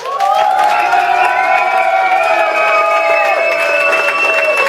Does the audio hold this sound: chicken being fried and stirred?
no